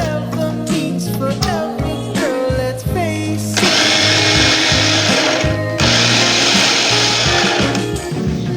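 A blender grinds banana heart, its motor whining and churning in bursts, sometimes rising to a harsher, louder roar.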